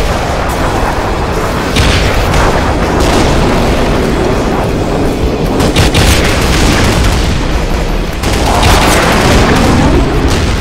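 Tank explosions in the video game Black Mesa, set in a war zone: heavy booms and blasts rolling one after another over a loud rumbling battle din, with no voices.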